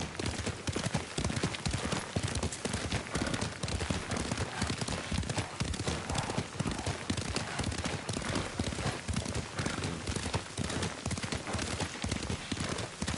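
Steady, rapid clip-clop of horse hooves at a gallop in the video game Ghost of Tsushima, loud and continuous, with a faint whinny and distant bangs in the mix.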